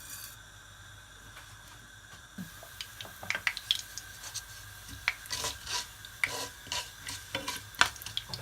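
Mustard seeds crackle and pop in hot oil, quiet at first, then a quick irregular series of sharp little bursts over a faint hiss.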